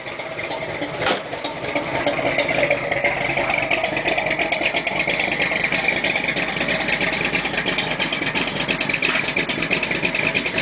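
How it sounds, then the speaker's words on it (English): Big block car engine idling lumpy and uneven, heard from the rear, a steady loud rumbling burble with a choppy pulsing rhythm throughout, no voices. "That's the sound from the rear, obviously. You can tell it's pretty lumpy."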